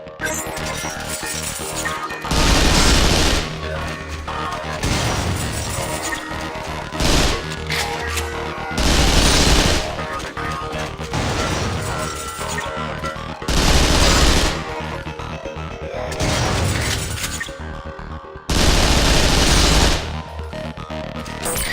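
Gunfire from the video game Vanquish, with loud repeated bursts of automatic fire and impacts recurring every few seconds over a constant background of game music and effects.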